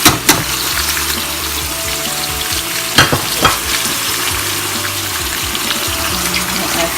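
Onions, tomatoes and parsley fry in a pan with a steady broadband sizzle, broken by a few sharp stirring clatters near the start and around the middle; there is no talking.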